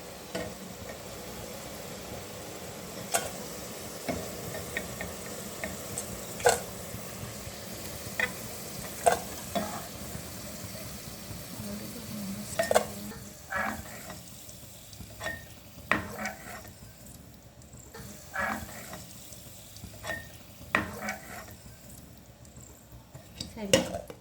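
Potatoes fry in a pan with a steady, soft sizzle, while a utensil stirs and scrapes against the metal in irregular clinks and knocks, close by and moderately quiet.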